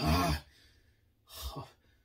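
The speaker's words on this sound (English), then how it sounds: "Cough." A single person coughs, a short harsh burst at the start followed by a second softer cough with a breathy pant a moment later, close and alone.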